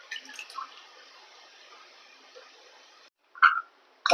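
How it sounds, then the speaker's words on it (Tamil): Soft water sloshing and dripping as pieces of vanjaram (seer fish) are rinsed in a bowl, quiet and intermittent, with a couple of brief louder splashes near the end. "எப்பவுமே அலசுறது வந்து இப்படித்தான் தண்ணியில் அலசணும்"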